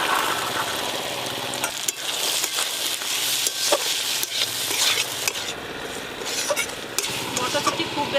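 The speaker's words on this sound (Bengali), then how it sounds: "মশলার সাথেই মটরশুঁটি নাড়তে নাড়তেই সেদ্ধ হয়ে গেছে" Green peas being stirred and fried in a thick spice paste in a pan, a steady close sizzle with scraping spoon strokes throughout, continuous and fairly loud.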